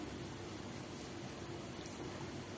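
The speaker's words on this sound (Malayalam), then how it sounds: "തിളക്കട്ടെ കേട്ടാ." Water boiling in a pot while cooking chicken biryani, heard as a steady, faint, rushing hiss with soft bubbling throughout and no voices.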